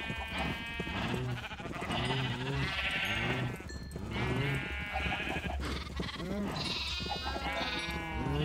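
Sheep in the Minecraft 1.20.2 survival game bleat repeatedly. Several wavering calls overlap one another at a steady, close level, with no voices over them.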